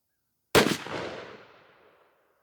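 A single 20 gauge Stevens 301 shotgun blast firing a Winchester Double X 3-inch #5 lead load outdoors, loud and close, with a long rolling echo fading over nearly two seconds.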